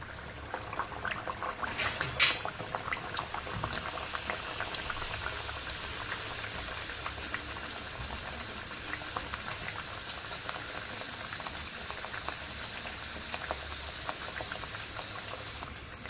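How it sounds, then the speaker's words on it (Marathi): Traditional dangar gharya, sweet dough rounds, fry in hot oil in a kadai, giving a faint, even bubbling hiss that runs steadily throughout, with a brief louder splash near the start. "आता आपण ही घारी टाकूया तेलामध्ये"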